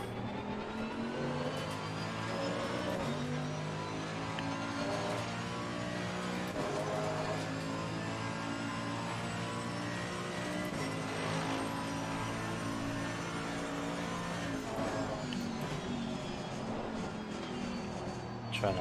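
A race car engine in a racing video game, a steady sustained drone that holds a constant pitch throughout without a break.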